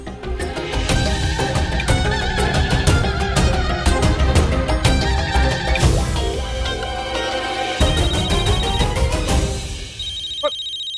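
A phone ringtone plays a loud, busy melodic tune for about ten seconds, then cuts off near the end.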